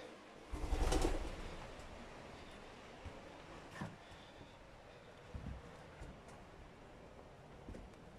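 A pigeon coos faintly inside Sawney Bean's cave, with soft, scattered calls and rustles echoing against a quiet, hollow background.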